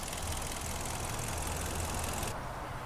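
A 2013 Kia Forte's 2.0 liter inline-four engine idling under an open hood, a steady low hum with faint mechanical texture, quiet and unchanging with no talk.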